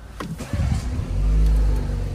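A new BMW car starts up in a short burst, then settles into a smooth, quiet running hum heard from inside the cabin.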